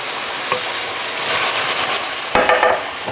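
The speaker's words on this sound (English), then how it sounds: "I'm gonna scrape the bottom, just like that." A utensil scrapes the bottom of a hot pan as heated vinegar deglazes it, the liquid hissing and sizzling steadily with a louder burst of scraping and bubbling near the end, close up and with no talking.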